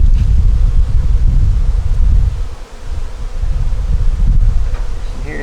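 Honey bees swarm around an opened hive in cold-season weather, making a dense, close, continuous buzzing drone with gusts of wind noise rumbling over the microphone, and no talking.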